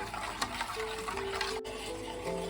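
Milk thickened with powdered milk is stirred and boiled down in a pan, a spoon scraping and clinking in an irregular rhythm over a soft bubbling sizzle, with no voices.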